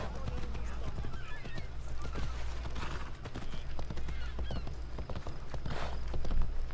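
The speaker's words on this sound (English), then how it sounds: "Poor horse is gonna hurt himself, man." Horse hooves clip-clop at a steady trot in the video game Assassin's Creed Odyssey. The rhythmic beats are close and fairly quiet, with a few faint honking or whinny-like calls in the background.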